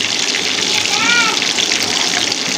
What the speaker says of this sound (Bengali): এরকম ভালো করে ভেজে নিতে হবে।